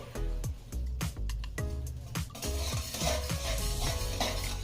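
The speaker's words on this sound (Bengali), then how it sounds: "এবার এই চিনিটাকে নেড়ে চেড়ে দিতে হবে" Sugar caramelizing in a pan is stirred with a utensil, giving repeated scraping and clinking strokes over a steady close sizzle, with no voices.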